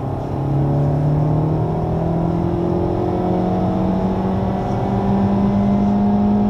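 A Honda Civic Type R accelerates hard out of a corner on the Le Mans circuit, its engine a steady loud droning roar rising in pitch, heard from inside the car with no voices.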